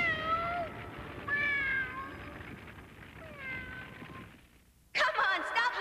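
A cat meows in an animated series scene, giving several drawn-out, wavering cries in succession, fairly clear and close, before a sudden burst of louder noise near the end.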